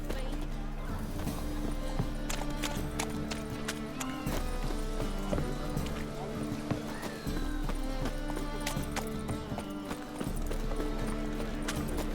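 Roach, a horse in The Witcher 3: Wild Hunt, gallops with a rapid, steady clip-clop of hooves that runs throughout at moderate loudness, with brief gaps and some game sounds in between.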